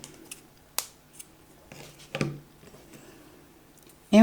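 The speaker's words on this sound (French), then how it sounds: "Pareil, on coupe le fil." Scissors snip through crochet yarn at the end of a round, a few short, close cuts separated by quiet pauses, with faint handling noise around them.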